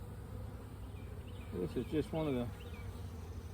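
Honey bees buzz softly around a hive frame in a steady background drone while someone speaks briefly over it.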